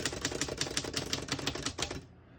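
Typing on a 1939 Royal U Model portable typewriter: a quick, even run of about a dozen sharp key strikes close up, which stops abruptly and leaves a quiet tail.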